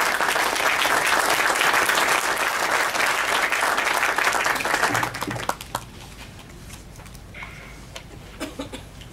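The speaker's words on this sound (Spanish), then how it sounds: "Un aplauso también." Audience applause at an interamerican interreligious dialogue forum, a loud sustained wash of clapping for several seconds that thins abruptly into scattered claps and quiet room noise near the end.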